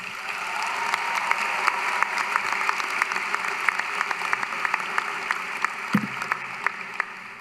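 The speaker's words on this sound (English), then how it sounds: "Can we give them another round of applause?" Sustained applause from a large crowd at a university commencement ceremony fills the whole stretch, steady and dense with scattered sharper claps, no voices.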